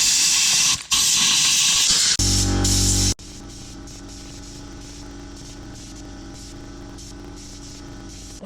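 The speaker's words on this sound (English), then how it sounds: "So we're going to air blast it now." Sandblaster air-blasting rusty bolts from a Mitsubishi Evo 8 subframe: loud, harsh hissing bursts for about three seconds with short breaks, then cutting to a quieter steady hum and faint whir.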